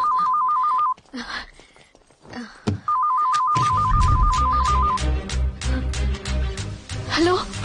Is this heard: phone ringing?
yes